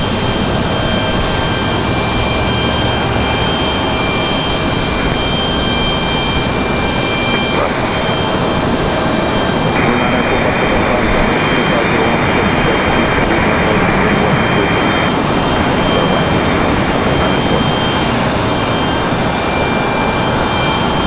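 A Boeing 737 from Denver lands at Raleigh-Durham International, its jet roar loud and unbroken for the whole stretch, a dense wash of engine noise with a steady high whine.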